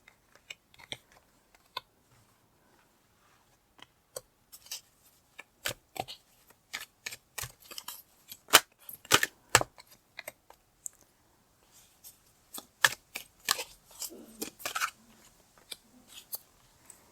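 Tarot cards being shuffled and handled in quiet surroundings, with soft scattered riffles and flicks that come in irregular clusters and grow busier toward the end.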